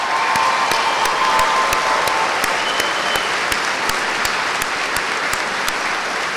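At a fall commencement ceremony, a large audience applauds military veterans and service members, a broad continuous roar of clapping with some cheering, holding steady for several seconds with crisp individual claps nearby.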